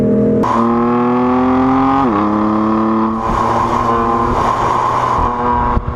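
A BMW six-cylinder twin-turbo diesel engine revs loudly and close, its steady harmonic drone climbing in pitch, dipping at a gear change, then holding a rougher high-rev roar throughout.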